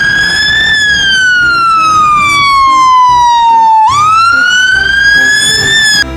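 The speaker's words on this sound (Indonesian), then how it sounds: "Ada lagi mobil pemadam kebakaran." A toy fire truck siren wails loudly and alone, its tone sliding slowly downward, then snapping back up and rising again in a continuous electronic cycle.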